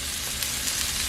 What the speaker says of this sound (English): I'm going to give this a nice little saute